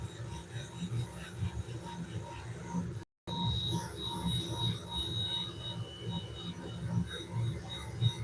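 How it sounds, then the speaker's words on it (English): Wooden bowl spinning on a lathe while being sanded, a continuous rough rubbing rasp over a steady motor hum with a faint high whine, interrupted by one brief cut-out. "We're just kind of sanding this all down."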